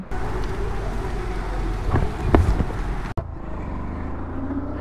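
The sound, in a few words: heavy rain falling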